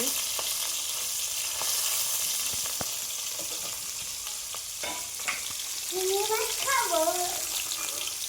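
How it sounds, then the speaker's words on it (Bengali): Prawns hiss and crackle in hot oil over low heat with a steady, dense sizzle, and a voice cuts in briefly near the end. "চলো এগুলো এখন ফ্রাই হচ্ছে"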